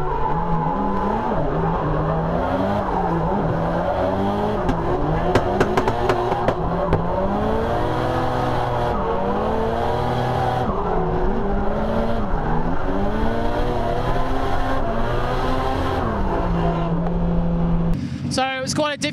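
Onboard a drift car at an Australian Drifting GP round, the engine revs and sweeps up and down hard and continuously with tire squeal as it slides. It is loud and close throughout, ending in a brief burst of other noise.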